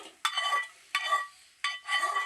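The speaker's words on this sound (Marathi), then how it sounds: "छान मिक्स करू आणि गॅस बंद करू" A ridge gourd skin mixture being stirred in a pan over a gas flame, with three bursts of scraping and light clinking of a utensil against the pan, separated by short pauses.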